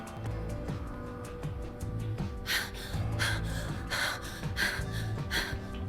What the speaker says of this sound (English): Gosh, you're out of breath.